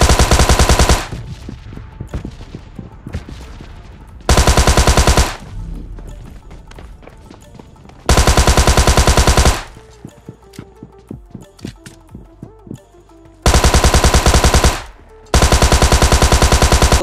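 Long bursts of rapid machine gun fire in PUBG Mobile Lite, loud and close, repeating four times with quieter clattering game sounds and footsteps between.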